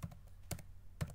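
Three sharp keystrokes on a computer keyboard land about half a second apart while a command is being typed during a LAMP server package install, close and fairly quiet with no voices.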